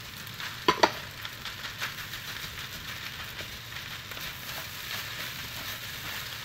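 An egg frying in a pan gives a steady, low sizzle throughout, with a couple of sharp clinks from a utensil near the start.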